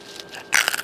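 A bite into crunchy, crispy smoked barbecue pork skin, with a faint crackle first and then a loud, close burst of brittle crunching that lasts under half a second.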